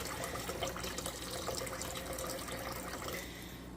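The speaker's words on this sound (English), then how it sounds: "It's just water going into a bucket." Water from a kitchen tap pours steadily into a bucket while spinach leaves are rinsed, a constant close splashing hiss that eases slightly toward the end, with no voices.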